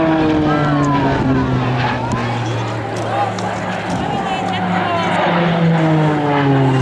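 RAAF Roulettes aerobatic aircraft fly in close formation, a loud steady propeller-engine drone with shifting harmonic pitch, sustained throughout with a commentator's voice underneath.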